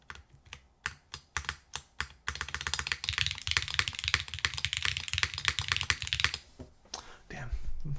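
Rapid typing on a Manta mechanical keyboard, close and crisp: a few separate keystrokes, then a dense continuous clatter of keys that stops abruptly near the end, with no talking.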